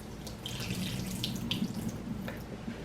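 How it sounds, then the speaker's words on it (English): Salted soaking water drains off sliced vegetables in a kitchen sink, a steady close running-water splash with a few brighter drips and spatters. "So I drain the water off now."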